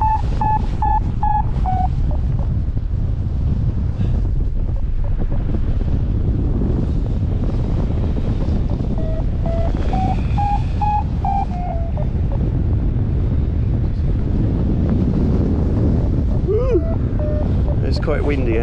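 Strong, steady wind roars and buffets against the microphone of a small aircraft in bumpy flight, a continuous low rumble lasting throughout while someone talks over it.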